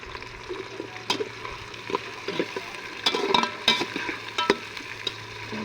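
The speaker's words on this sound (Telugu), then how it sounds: "ఆడగంటకుండా గట్టితో తిప్పుతున్నాం టమాటో" Tomatoes stirred in a hot pan while cooking a village-style festive dish, with steady frying sizzle and scraping clicks from the spoon on the pan, close and alone.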